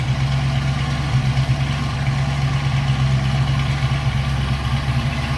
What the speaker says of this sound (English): Flip around to the back so you hear that rumble out of that 351